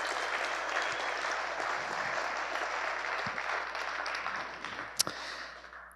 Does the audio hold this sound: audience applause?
yes